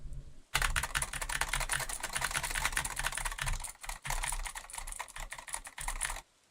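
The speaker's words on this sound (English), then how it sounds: "You want to hear a gamer keyboard? Hold on. I'm putting the mic close to it." A mechanical gaming keyboard types fast and steadily with dense clicky clatter, recorded close up, with a brief pause midway and no talk.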